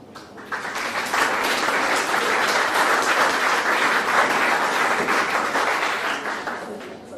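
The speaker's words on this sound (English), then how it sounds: "It's a huge clapping." An audience bursts into loud, sustained clapping at the close of a conference session on national education policy; the clapping swells quickly, holds steady and then fades.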